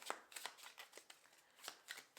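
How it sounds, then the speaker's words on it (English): A deck of tarot cards is shuffled in a run of quick, crisp riffles and slaps, close and fairly quiet, with short pauses between bursts. "let's keep shuffling."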